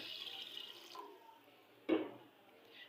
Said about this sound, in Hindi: इसमें 300 ग्राम हमने जो है ना पानी शामिल करना है।